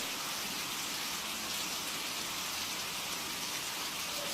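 A steady hiss of rain falls on a rainy night indoors, even and fairly faint, with no speech over the constant wash of drops throughout.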